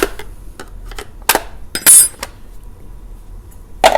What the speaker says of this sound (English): we're gonna pop off the air cleaner